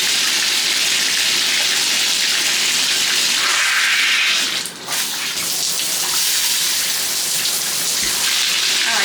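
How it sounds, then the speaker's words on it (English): Water gushes steadily from a newly changed bathtub spout and shower in a DIY attic bathroom, a loud, continuous hiss that dips briefly midway as the flow is diverted. "let me turn my water on."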